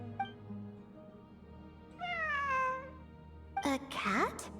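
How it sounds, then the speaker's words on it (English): Cat meowing in the video game Genshin Impact: a drawn-out meow in the middle, then louder, rising calls near the end, over a low background hum. "It really is a cat."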